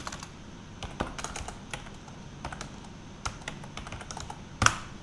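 Typing on a computer keyboard, close and fairly quiet, with irregular bursts of clicking keystrokes and a sharper tap near the end.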